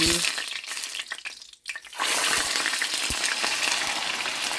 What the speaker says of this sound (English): I already have my oil in my pan, so I'm getting ready to just put it on the stove, and I'll be right back so you can see me fry it up